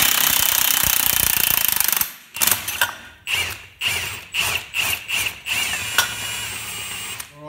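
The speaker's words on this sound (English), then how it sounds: "I'll whack it with impact driver." Impact driver hammering on a Toyota Hilux rear axle during rear brake shoe work: after a steady mechanical whir, about eight loud, close rattling bursts hit in quick succession, separated by brief pauses.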